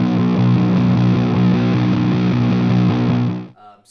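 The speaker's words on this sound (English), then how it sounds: "the more you go farther into it, you start getting into the distortion territory." Electric guitar through a Death By Audio Fuzz War pedal set toward heavy distortion, a loud sustained gritty fuzz chord ringing steadily for a few seconds before cutting off.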